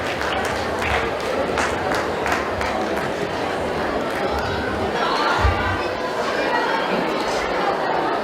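Applause from an audience at a charity music and dance event for Sankara Netralaya, a steady wash of clapping mixed with crowd chatter that carries on throughout at a fairly even level.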